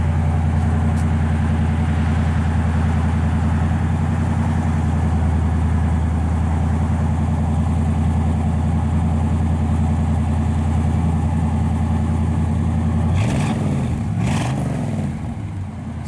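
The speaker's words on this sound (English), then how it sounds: "we got it idled down a little bit." A 1964 Chevrolet Chevelle Malibu SS convertible idles steadily through its dual exhaust on a cold start with the choke on, a loud, deep, continuous rumble that wavers briefly near the end.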